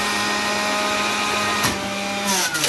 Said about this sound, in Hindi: यहाँ पे हमारा जो है ना जूस भी तैयार हो रहा है। इसलिए इसकी आवाज़ ज़्यादा है